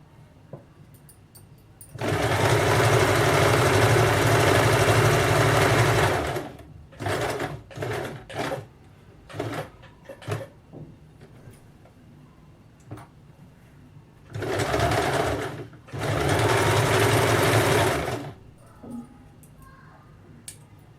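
A sewing machine stitches a salwar (ladies' pant) in two long runs of steady whirring, separated by a series of short start-stop bursts, with quiet pauses between; close and fairly loud, no talking.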